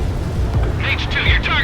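A missile launches from a fighter jet in the video game Ace Combat 7 with a rushing, hissing whoosh over a heavy engine roar, while a voice talks.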